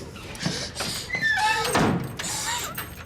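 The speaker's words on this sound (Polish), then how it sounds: "Ala, zamknij drzwi." A door thuds shut once in the middle of a tense scene, with voices and movement sounds around it.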